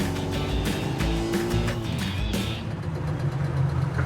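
A vintage Mini's small engine runs noisily while the car moves briskly down the road, a steady loud drone with rumbling low end throughout, close and continuous.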